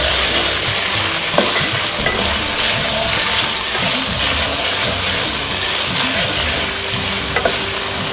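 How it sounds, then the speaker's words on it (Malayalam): Vegetables and tomatoes for a home-style sambar sizzle loudly in a hot pan, a continuous close hiss and crackle with small pops running the whole time. "ചീ ചീ ചീ ചീ എന്നുള്ള സൗണ്ടൊക്കെ നല്ലോണം കേൾക്കാം"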